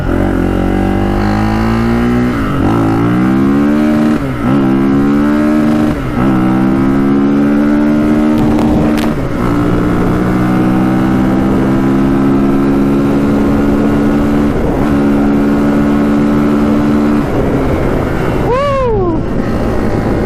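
Modded Polaris Outlaw 500 quad running flat out at top speed, a loud close engine roar with rising and falling revs through gear shifts, holding a high steady drone before easing off near the end, with wind buffeting.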